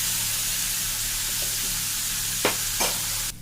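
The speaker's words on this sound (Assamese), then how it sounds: "এতিয়া গেছটো কমাই পেলাই যেতিয়ালৈকে ফুটি নাযায় তেতিয়ালৈকে ভাজি থাকিম" Food fries in a pan on a low gas flame, giving a steady soft sizzle and hiss, with a few sharp pops and crackles near the end.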